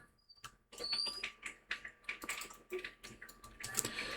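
Keys pressed on a computer keyboard while a search is typed into Google: a close, crisp string of separate clicks in an uneven rhythm, with short pauses between bursts and no voices.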